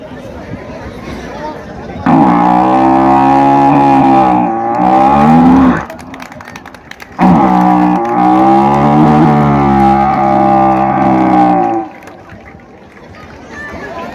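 A man imitates a buffalo's lowing call at a public awareness event held by an SSB battalion, giving two long, loud, drawn-out moos separated by a short pause, close to the microphone.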